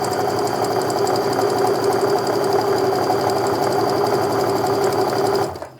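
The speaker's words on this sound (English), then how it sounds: "So now I'm just gonna sew my 1/4" seam down the rest of this here." A sewing machine stitches a 1/4 inch quilt seam in a fast, steady, close-up mechanical chatter that runs evenly and then stops abruptly at the end.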